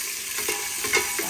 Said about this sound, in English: so make the garlic fry in here a little bit